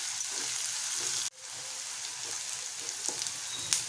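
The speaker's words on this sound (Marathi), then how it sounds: "आता लगेच आपण कढीपत्ता घालूया आणि बारीक चिरलेल्या हिरव्या मिरच्या। 1-2 मिनिटं आपल्याला परतवून घ्यायचं आहे।" Curry leaves and finely chopped green chillies sizzle in hot oil while being sautéed for a potato dish, a steady close crackle with a sharp drop as they hit the pan and soft stirring noises.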